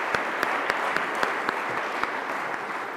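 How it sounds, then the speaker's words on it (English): Applause from an industry conference audience for a speaker at the close of the first day, steady clapping with a few sharper claps standing out. "Let's give him another round of applause."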